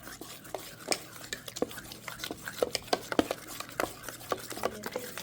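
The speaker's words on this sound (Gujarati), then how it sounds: "હવે આપણે એને હલાવી નાખશું" Spoon stirring semolina batter with ginger and chilli in a metal pot, giving a steady run of scraping clinks and knocks, close and moderately loud, with no talk.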